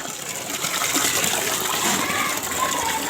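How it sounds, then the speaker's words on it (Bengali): Rice being washed in water, with a steady gushing, sloshing wash of running water close by that fills the whole stretch without pause. "চলো চালটা ধুয়ে দিয়ে দেওয়া হোক"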